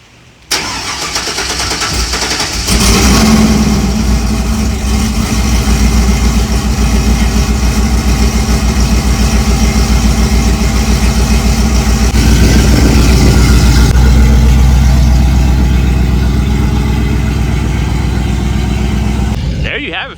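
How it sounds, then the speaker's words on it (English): Cammed Chevrolet Silverado 5.3L V8 fitted with long tube headers fires up and settles into a loud, steady lumpy idle with a choppy rhythmic lope, close and continuous throughout. "initially you can hear the chop definitely a lot more"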